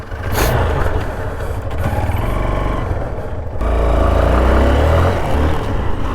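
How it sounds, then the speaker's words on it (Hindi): Engine of a Hero Karizma motorcycle, a model on sale since 2003, running on a test ride, a steady low rumble that swells and eases with the throttle, loud and close under wind noise. "एक बार चलिए इसकी फटाफट टेस्ट राइड पे चलते हैं, एक बार चला के देखते हैं कि आज भी क्या इसका इंजन जो है वो इतना रिफाइंड है या नहीं।"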